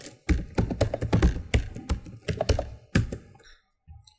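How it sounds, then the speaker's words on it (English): Fingers typing a password on a computer keyboard, a close, brisk run of clacking keystrokes for about three seconds before a short pause and one last faint tap. "So I'll create our password again, so provide the password."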